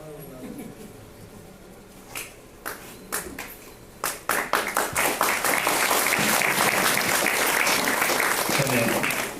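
Applause at a network marketing seminar starts as a few scattered, separate claps, then swells into dense, loud clapping from the whole audience that holds to the end, with a voice speaking early on.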